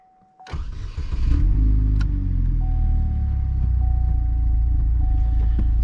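A modified 2009 Chevy Cobalt SS engine cranks and catches after a brief quiet moment, then settles into a steady, deep idle rumble that continues close and loud.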